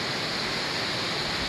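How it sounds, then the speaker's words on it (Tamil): Steady broadband rush of water pouring down from a height at a monsoon-season stream waterfall near Valparai, a constant close roar without pause and no voices. "வேறு லெவலில் மேலேருந்து தண்ணி ஊற்றிட்டு இருக்கு"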